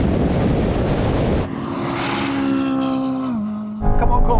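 Corvette race car pulling away hard from a standing start in a drag race, engine note climbing and shifting over several seconds before cutting off, loud and close against another car.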